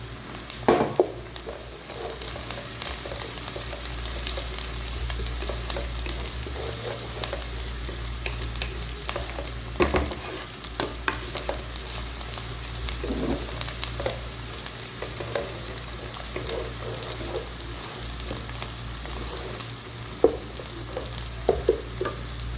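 Onions, ginger and garlic fry in a pan for palak gosht, giving a steady, soft sizzle with scattered scraping and clinking taps as a spoon stirs them. The sound is close but fairly quiet, with no talking.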